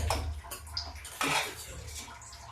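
Cashews and makhana stirred into kheer in a pot: a spoon scrapes and clinks against the metal pot in short wet swishes, quiet and close.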